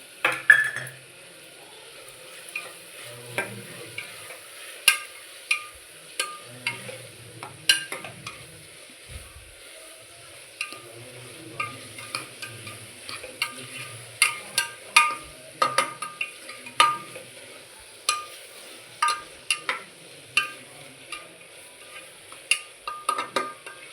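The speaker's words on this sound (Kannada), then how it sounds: "ಅದರ ಜೊತೆಯಲ್ಲೇ ಈ ಶುಂಠಿ ಬೆಳ್ಳುಳ್ಳಿ ಪೇಸ್ಟು, ಇದೆಲ್ಲ ಹಸಿ ವಾಸನೆ ಹೋಗೋವರೆಗೂ ಸ್ವಲ್ಪ ಹೊತ್ತು ಫ್ರೈ ಮಾಡ್ಕೊಳ್ಳೋಣ." Ginger garlic paste sizzles in a pan with a steady crackling fry, punctuated by frequent scraping stirs of a spatula against the metal, close and continuous with no talking.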